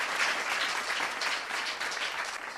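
Audience applause at a Tamil televised competition show, dense steady clapping from a crowd filling the whole stretch without any voices.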